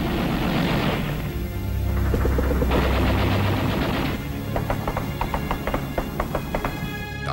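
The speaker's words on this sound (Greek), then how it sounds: "πυκνοί πυροβολισμοί και ρηπές πολυβόλων σκέπασαν τη συνηθισμένη βοή της πόλης" Dense gunfire and machine-gun bursts fill a city at eight in the morning during the July 1974 coup: loud, continuous rattling volleys, then rapid sharp repeated shots toward the end, with no talking.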